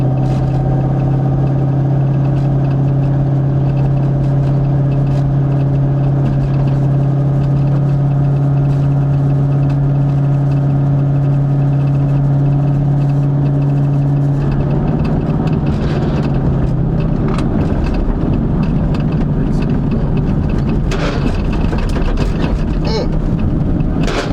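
A loud 2000 Ford Mustang GT engine runs nearby with a heavy, steady droning rumble and strong low tones, then the pitch shifts and grows rougher partway through as it revs and pulls away.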